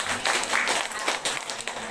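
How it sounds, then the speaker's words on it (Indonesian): Applause from a gathered audience at an Islamic halal bil halal sermon gathering, a short burst of dense clapping that fills the moment steadily at moderate volume. "Mana tepuk tangannya?"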